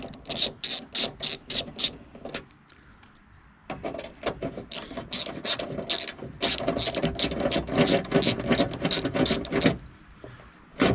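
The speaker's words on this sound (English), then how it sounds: "I just ended up getting like a nut driver, make it go a lot faster" Repeated ratcheting clicks from a nut driver backing out tailgate panel bolts on a 2015 Ford Escape, coming in quick bursts with a pause in between, loud and close with no talking.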